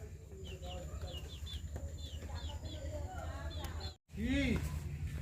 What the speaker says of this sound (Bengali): তো আমার এই ছোটো ছোটো মুরগিগুলো সবই কিন্তু খোয়ারে চলে যাচ্ছে